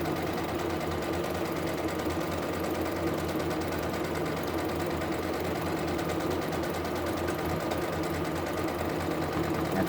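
A sewing machine runs steadily, stitching along the bottom hem of a pocket pillow with a 1/4 inch seam allowance, a continuous close mechanical whir and needle chatter without pauses or talk.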